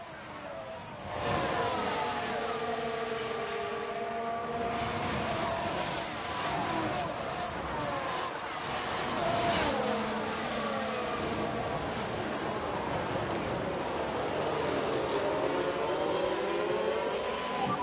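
Racing cars in F1 Manager 22 at Yas Marina, with a Williams car overtaking. Engine whines rise and fall continuously at a moderate distance, several cars overlapping, and a commentator speaks over them.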